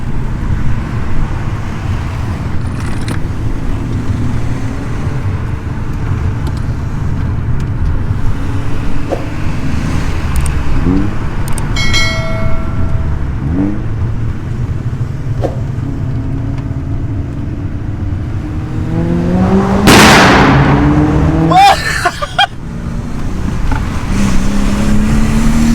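A turbocharged Audi A4 drives through city streets with a loud, continuous engine roar, rising in pitch during several revs and surging hardest near the end.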